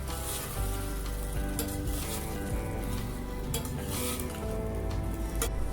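Washed rice, soaked for half an hour, goes into a hot pan for lemon rice and is stirred. A loud, dense sizzle fills the whole stretch, broken by scraping and clinking of the spoon against the pan.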